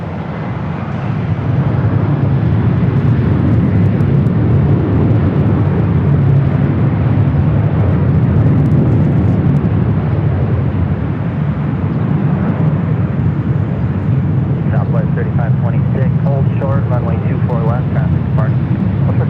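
An airliner takes off from runway 24 left at Los Angeles International Airport, a loud, steady jet roar that fills the whole stretch without letup.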